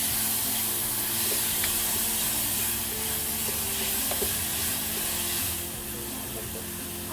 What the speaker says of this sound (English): chopped tomato. Saute that a little bit.